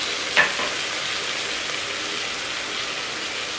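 Pav bhaji sizzles loudly in a pan as red chilli powder and pav bhaji masala are stirred in, a continuous close hiss with a brief clatter near the start.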